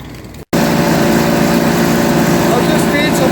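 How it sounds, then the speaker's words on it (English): After a brief cutout, a small Jinma tractor engine speeds up, roaring loudly and steadily, a buzzing mechanical drone held close up, driving a wood chipper. "Now I'm going to speed up the engine"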